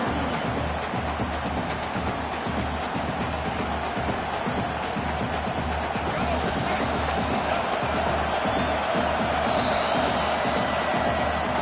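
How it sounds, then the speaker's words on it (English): A football stadium crowd roars in a steady, loud wash of cheering and babble that holds for the whole stretch, with no single voice standing out. "listen to the roar of this crowd"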